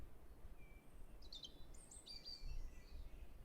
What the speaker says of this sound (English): You hear those birds chirping?